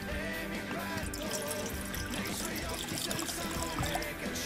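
Water pours and trickles into a pot at close range, a steady splashing stream for boiling with sugar into a syrup for rum baba.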